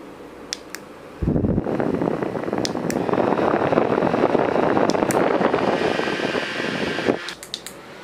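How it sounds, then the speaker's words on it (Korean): A small handheld Klepa electric fan with three speed settings runs for about six seconds, a steady close whirring rush of air that starts and stops abruptly, with faint clicks before and after. "이 클레파 선풍기는 3단계 풍량 조절이 가능해요"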